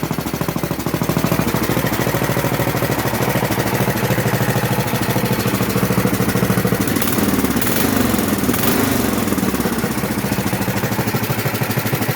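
A 1977 Sears 16/6 garden tractor engine with an untuned carburetor runs continuously and loudly, with a rough, chugging idle that stays steady throughout.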